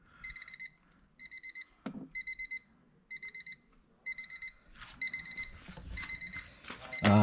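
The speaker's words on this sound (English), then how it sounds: "sorry about the beeping" Repeated electronic alarm beeping from a 1998 Honda Civic EX sedan in short rapid bursts, sounding in steady groups, then mixed with clatter and handling noise toward the end.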